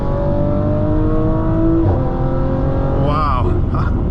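Stage 2 tuned 2018 Audi RS5 Coupe accelerating hard from a launch: loud engine rising steadily in pitch from inside the cabin, a sharp drop at an upshift, then climbing again, with excited voices over it near the end.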